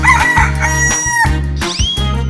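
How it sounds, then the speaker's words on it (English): Cartoon rooster crowing in a 3D animal slide game, a short bright cock-a-doodle-doo over steady thumping background music, loud and close. "Chicken."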